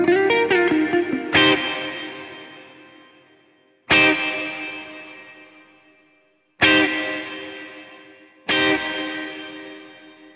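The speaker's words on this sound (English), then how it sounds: "Can you kind of hear that crust at the end of the reverb tail as it decays?" Electric guitar chords are struck four times through a pretty reverb with added overdrive, each loud strum decaying slowly into a gritty, crusty reverb tail, with no talking.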